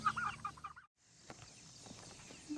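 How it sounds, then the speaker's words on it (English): A backyard chicken clucking outdoors, a few close, fairly loud clucks at the start, then a break and faint outdoor ambience with scattered soft clicks and knocks. "Chicken, why are you still out?"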